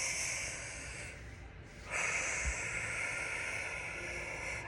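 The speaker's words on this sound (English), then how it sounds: "take a deep breath with me" One slow, deep breath taken close to the microphone: a soft airy exhale fades to near quiet, then a long drawn inhale hisses steadily to the end.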